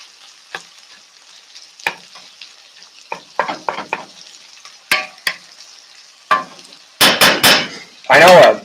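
Haluski, cabbage and noodles, frying in a pan under a low, constant sizzle, broken by irregular scrapes and clatters of stirring that grow louder and denser toward the end.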